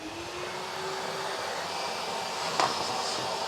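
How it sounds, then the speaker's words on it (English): A hoover vacuum dust extractor runs steadily in a woodworking workshop, a continuous close whine and airy roar that holds level throughout with a brief knock partway through. "So let's turn the hoover on."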